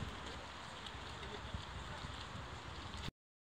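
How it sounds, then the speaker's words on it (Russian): Rain begins falling on an outdoor antique market in France, a dense, steady patter and hiss close to the microphone that cuts off abruptly. "у нас тут дождь начался"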